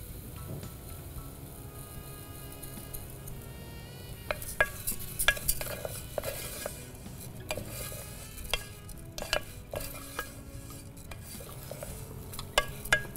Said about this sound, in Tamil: இது கொஞ்சம் லேசாக வதக்கிக்கோங்க.